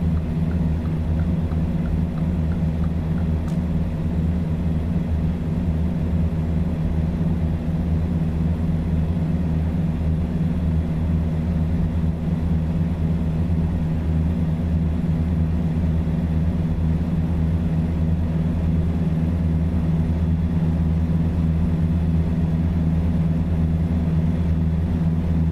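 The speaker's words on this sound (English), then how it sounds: "truck is so loud." A loud, steady truck engine drones low and unbroken throughout a drive in the video game American Truck Simulator, with no speech over it.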